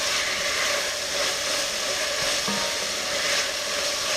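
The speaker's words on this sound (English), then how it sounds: "I'm going to let it fry for about 3 minutes, just until the tomatoes start to break down" Chopped tomatoes and onions fry with salt over medium heat, giving a soft, even, steady sizzle throughout with no other sounds.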